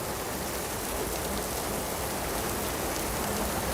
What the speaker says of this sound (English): You guys hear this rain? Just starts out of nowhere.